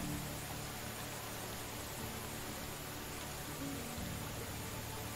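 Rain falling steadily in the video game Medieval Dynasty, a dense, even hiss of downpour that stays constant and fairly loud from start to finish, with low rumbling underneath.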